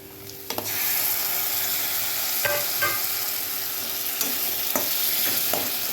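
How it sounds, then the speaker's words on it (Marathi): Masala spice mix sautés on a high gas flame, giving a loud, steady sizzle from start to finish, with a few soft clinks of stirring over the frying. "आता हा मसाला मोठ्या गॅसवर परतलेला आहे।"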